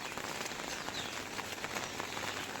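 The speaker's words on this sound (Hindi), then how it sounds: "कल रात से ऐसी मूसलाधार बारिश लगी है कि बंद होने का नाम नहीं ले रही है।" Heavy monsoon rain pours down steadily after a night-long downpour that has left the surroundings waterlogged, making a continuous, even hiss with no voices.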